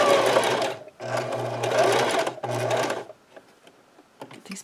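A sewing machine back stitching a scrub cap runs in three loud bursts of steady whirring stitching, with short pauses between them and faint clicks after.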